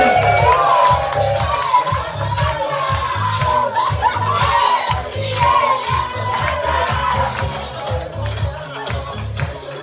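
A crowd at an embassy honours ceremony applauds and cheers for an honoree, with loud, continuous clapping under whoops and shouting voices.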